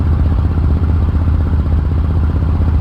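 Focke-Wulf FW 190 A-8 radial engine running on emergency boost in a flight simulator game, a loud, steady, rough drone with rapid rhythmic pulsing that holds unbroken throughout.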